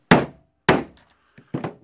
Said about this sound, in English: I will try to hit it with a hammer.